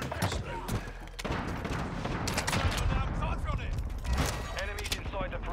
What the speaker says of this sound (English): A decoy grenade out.